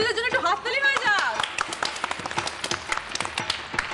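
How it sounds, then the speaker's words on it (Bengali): Studio audience on a Bengali TV game show claps for two contestants; dense, steady applause starts after a voice speaks over the opening, with a little laughter mixed in. "বৌদিদের জন্য একটু হাততালি হয়ে যাক"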